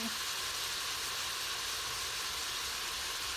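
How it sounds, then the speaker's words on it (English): Chopped yellow onions sweat in a pan, giving an even, continuous hiss-like sizzle that holds steady from start to finish with no voices. "I'm adding a lot of onion. And then just let the onions sweat out for a little while."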